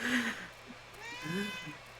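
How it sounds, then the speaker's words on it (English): A house cat meows twice, the first call louder and drawn out, the second a shorter, softer wavering mew, heard nearby indoors with no speech over it. "Shut up, cat."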